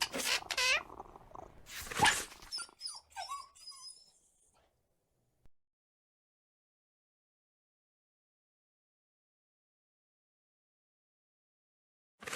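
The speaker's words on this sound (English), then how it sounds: "This cat seems to be in a sorry state." A wounded cat in a Sherlock Holmes detective game set in Victorian London meows and cries in a few loud, close bursts over the first seconds, then fades into near silence with a single faint tick later.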